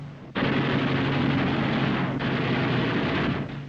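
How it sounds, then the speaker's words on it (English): Eight wing-mounted machine guns of a WWII P-47 Thunderbolt fighter fire in one loud, sustained roaring burst lasting several seconds, a dense continuous rattle with a slight dip midway. "Cyclic rate of fire, 800 rounds a minute. You've got 8 guns, 106 bullets a second."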